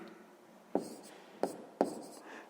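Pen writing a fraction in a sixth-grade math exercise, three short scratchy strokes spaced about a second apart, close and quiet.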